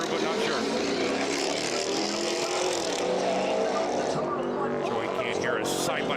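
Race cars including a Subaru WRX and a Charger roar around Delaware Speedway side by side in a sustained loud engine wash, with commentators talking over it.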